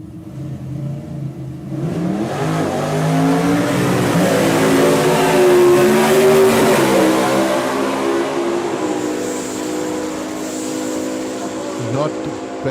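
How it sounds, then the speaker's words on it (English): Drag race cars launch side by side down the track at a Top End Nationals qualifying event, engines roaring and revving loudly as they pull away, with a commentator talking over the noise. "So here we go, side by side, South Aussies, Evans alongside Tipakidis."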